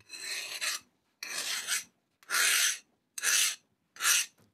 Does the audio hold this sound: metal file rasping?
yes